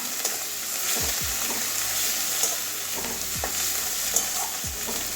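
Onions fry with turmeric in a pan under a steady hissing sizzle, with a handful of soft scraping strokes from stirring spaced through it; no voices.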